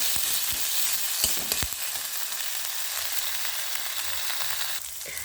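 Chopped tomatoes tipped into a hot pan with garlic-ginger paste, a steady bright sizzle with a few sharp clicks as they land, close and fairly quiet, no talking.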